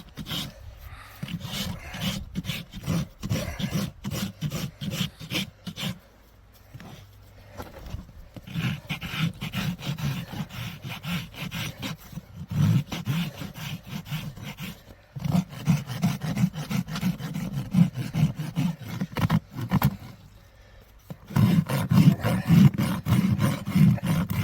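A farrier's rasp files a draft horse's hoof in close, rough strokes that come in uneven bursts, with brief pauses between sets of scraping.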